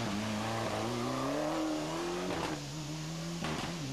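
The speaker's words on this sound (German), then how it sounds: "Der Monegasse Franck Philippe im Ford Escort Cosworth auf dem Weg zum vierten Platz" A Ford Escort Cosworth rally car at the 1997 Rallye d'Antibes drives past with a loud, continuous engine roar. The pitch climbs and then dips at quick gear changes, and no voices are heard.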